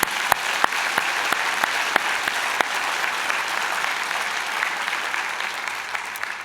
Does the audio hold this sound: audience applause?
yes